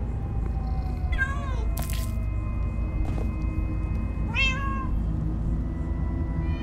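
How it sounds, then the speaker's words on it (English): Several cats in the Minecraft Story Mode video game meow in distinct rising cries, two clear calls standing out over a dense, steady in-game background, with a brief sharp clatter between them. "Oh, many cats, so many cats."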